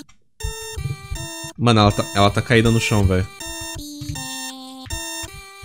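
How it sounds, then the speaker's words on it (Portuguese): A heart-monitor-style alarm beeps in the Friday Night Funkin' mod VS Starving, a loud string of sharp electronic tones with steady pitch. Someone talks over the middle part while the beeping continues around him. "Parece um despertador, mas ao mesmo tempo parece aquelas coisas de hospital"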